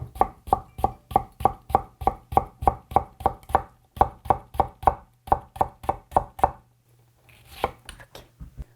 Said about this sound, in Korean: 얄팍얄팍하게 썰어 보세요.